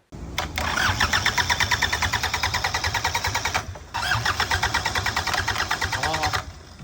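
A diesel engine with loosened injector lines cranks repeatedly on the starter with a steady chugging rhythm, pausing briefly midway before cranking again, loud and close without catching.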